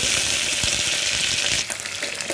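Small chopped onions and curry leaves frying in a pan, a steady close sizzle with a brief stir partway through and no talk.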